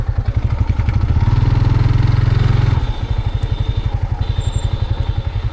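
A motorcycle engine runs close by at a steady idle, its throb rising briefly in a short rev before settling back to a rhythmic idle, with no talk over it.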